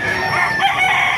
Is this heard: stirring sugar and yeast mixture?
no